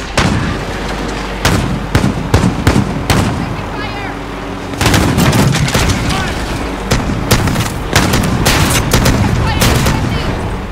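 Warzone gunfire on the small island, dense cracks and deep booms layered over a constant noisy battle bed, loud and close, with scattered distant shots between heavier volleys.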